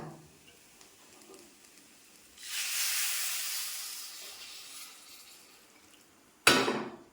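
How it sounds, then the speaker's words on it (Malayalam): Hot water poured into a simmering okra curry made with coconut milk bursts into a loud hiss of steam that fades over a few seconds, followed by a sharp, brief second sizzle. "അപ്പം നമുക്കിനിയും ഇതിലേക്ക് മക്കളെ ചൂടുവെള്ളം ഒഴിച്ചു കൊടുക്കാം കേട്ടോ"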